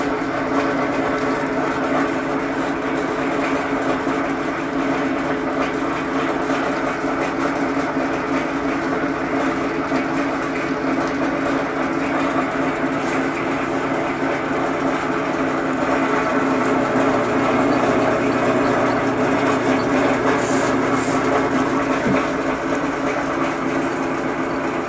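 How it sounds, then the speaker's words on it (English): A steady, high-pitched whirring drill runs continuously for a long stretch, drilling small holes through a metal brace, grinding close by at an even, loud level without pause. "I just got to drill holes through it."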